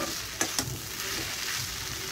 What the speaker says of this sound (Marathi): छान मसाला आणि मटकी व्यवस्थित अशी मिक्स करून घेतलेली आहे।